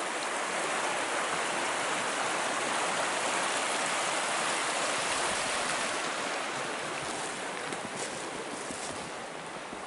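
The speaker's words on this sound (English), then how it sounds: "Brook's running a pretty good clip." A brook runs fast and full in winter woods, a steady broadband rush of water that stays loud and even throughout with no voices.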